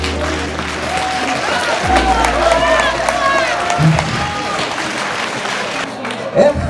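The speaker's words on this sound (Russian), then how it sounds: "Аплодисменты." Audience applause at a stage show, steady dense clapping and some cheering from a crowd, running under voices that speak and sing over it throughout.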